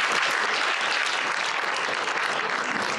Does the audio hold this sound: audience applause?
yes